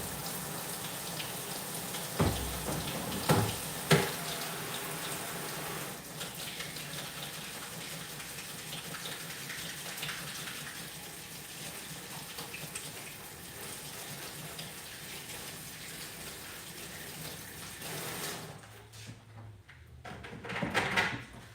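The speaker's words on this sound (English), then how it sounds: "I'm gonna wash my hands real quick. Actually, yeah, just rinse them off." Tap water running steadily over hands being rinsed at a sink, a soft continuous splash with a few knocks and clatters early on, stopping near the end.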